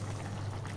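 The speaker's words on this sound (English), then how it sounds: "put coconut milk. And I'm cooking it." Coconut milk pouring into a cooking pot with prawns and eggplant, a brief steady liquid stream under a low background hum, close and fairly quiet.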